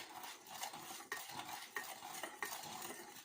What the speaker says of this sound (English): And you just keep stirring till it's all melted.